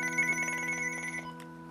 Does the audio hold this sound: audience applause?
no